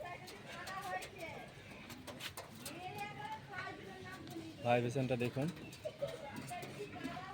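Pigeons cooing in a loft during a showing of a small block of birds, with a clear throaty coo rising near the middle over steady background chatter; someone talks throughout.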